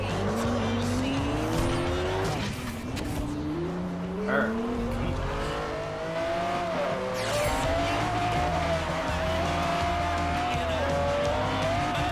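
Engines roar in a Forza racing game as a Lamborghini Diablo and other supercars run, with a steady rising high-revving drone, tire squeal and skids throughout, loud and continuous, partly under a person's talk.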